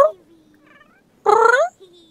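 A person imitates a cat's meow, a short, nasal, rising and falling mew standing alone after a brief spoken word.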